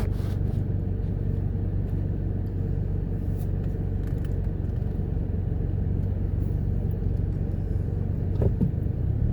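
A car driving along a road in Orlando, Florida, heard from inside as a steady low engine and tyre rumble that stays even throughout, with a faint creak near the end and no talking.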